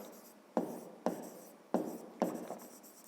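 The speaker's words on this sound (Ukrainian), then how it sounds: "Пишемо сторони трикутника." Triangle sides being written on a board: four distinct taps and scratchy strokes at a steady pace, close but fairly soft, over a quiet background with no speech.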